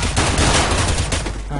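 Rapid gunfire rings out in Counter-Strike: Global Offensive multiplayer on the Cobblestone map, a short dense burst of sharp shots crackling loudly for under two seconds, with faint voices underneath.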